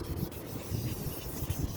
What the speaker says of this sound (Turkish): Elimizde binlik ve 1500'lük zımpara var.